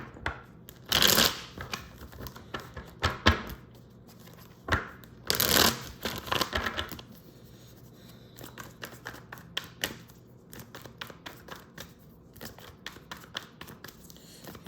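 Tarot cards shuffled by hand in bursts of riffling and flicking, with two loud riffle runs early on followed by quieter, irregular card taps and slides, close up and without talk.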